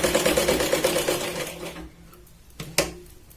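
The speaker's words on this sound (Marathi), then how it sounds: "तिरकस जिथे आपण ड्रॉ केलंय तिथे आपण व्यवस्थित तिरकस शिलाई लावून घेतो." A sewing machine sews a slanted seam on a Katori blouse, a rapid rhythmic stitching chatter for under two seconds, then it stops and a couple of short clicks and knocks follow.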